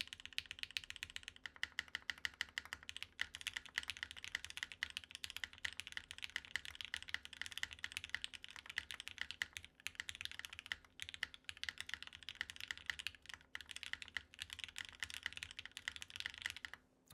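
Rapid, continuous clacking of typing on a gasket-mount mechanical keyboard, close and clear, with fast irregular keystrokes and occasional deeper spacebar thocks, no talking.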